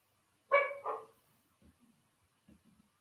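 A dog gives two quick barks close by, then falls quiet apart from a few faint soft sounds.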